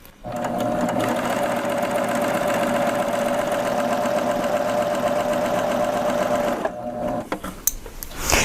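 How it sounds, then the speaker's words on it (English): A Babylock serger sews a chain stitch, running as a steady, loud mechanical whirring hum that stops near the end and is followed by a few soft clicks. "So let's just sew these together with that chain stitch."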